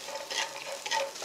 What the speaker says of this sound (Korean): 팬에 채쳐놓은 당근을 살짝만 볶아줄 거예요